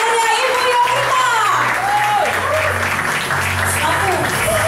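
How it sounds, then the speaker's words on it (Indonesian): A crowd claps and cheers to welcome someone speaker at an evening event held around Lebaran. The applause is steady and moderately loud, and a voice talks over it throughout. "kita sambut dengan tepuk tangan meriah Ibu Yovita."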